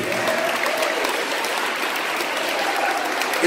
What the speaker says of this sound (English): Round of applause for community.